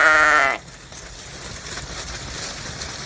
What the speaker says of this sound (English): we are starting to look at our plans for breeding the Icelandic sheep.